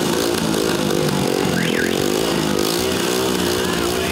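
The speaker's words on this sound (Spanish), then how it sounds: "Sobre dos ruedas y con el sonido de los motores, daban aviso de su llegada." Several motorcycles rumble and rev loudly up close as they arrive in central San Salvador, engines droning continuously with rising and falling throttle and a brief whining tone, while a voice speaks underneath.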